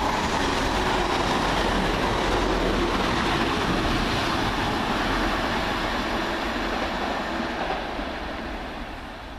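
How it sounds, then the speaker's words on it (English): Northern Rail train 185151 rolls into a station, a loud sustained rumble of wheels and carriages close by, with clickety-clack on the rails, easing off slightly toward the end; no talk. "It's now coming in. That's the 12:39 Northern Rail service from Leeds to Moston."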